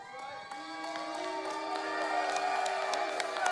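Wrestling crowd at an OVW show cheering and applauding their National Champion, a steady roar of many voices with scattered claps that swells slightly and stays loud throughout.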